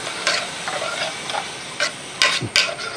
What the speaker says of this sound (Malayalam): എന്നിട്ട് ഇതെല്ലാം കൂടെ ഇട്ടൊന്ന് ഇളക്കി കൊടുക്കുക.